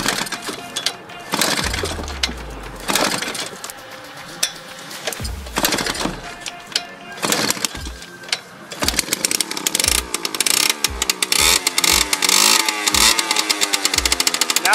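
A Suzuki JR50 dirt bike engine, just restarted and warming up, runs loud and close with uneven revving that steadies into rapid repeated throttle blips toward the end.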